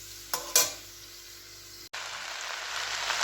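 A spoon stirs vegetable rice with carrot, capsicum, beans and fried cashews and raisins in a pan, giving a couple of sharp scrapes, then a soft steady frying hiss that swells slightly toward the end.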